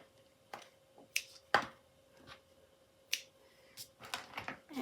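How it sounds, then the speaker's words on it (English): A series of crisp, sharp scissor snips sound close up, irregularly spaced, trimming thin ribbon in quiet surroundings. "And let's trim it up a little bit with some scissors."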